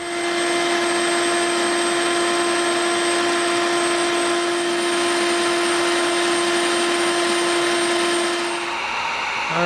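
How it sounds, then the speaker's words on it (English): Dremel rotary tool with a smoothing bit grinding the edges of EVA foam for a toy blaster build, a steady high-pitched whine running continuously and loud close up for nearly the whole stretch before tapering off. "now we're gonna come in with the smooth bit to smooth it out"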